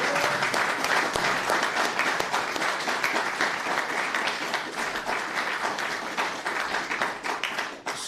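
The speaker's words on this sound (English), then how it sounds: "can we have a wee ripple of applause for Aidan Smith" Warm, sustained applause for author Aidan Smith at the launch of his book on Scottish football, many hands clapping densely and steadily for about eight seconds before tapering.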